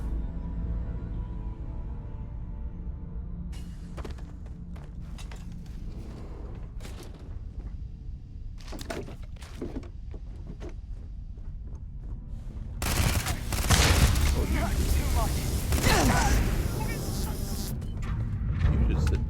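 Gunfire in the video game Starfield: sharp bursts of shots crack out over a low ambient drone, followed by a louder, denser stretch of rapid fire and clatter near the end.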